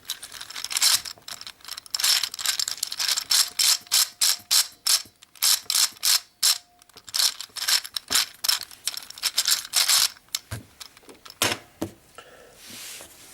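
Rapid clicking and ratcheting of a Gear Rubik's cube being turned in a speedsolve, dense bursts of mechanical clicks with brief pauses, close and fairly loud, no talk.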